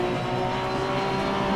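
Porsche race car engine at the race start in Assetto Corsa Competizione, a loud steady roar with a sustained tone, cars close by, no talk.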